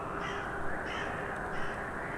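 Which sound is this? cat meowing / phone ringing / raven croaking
raven croaking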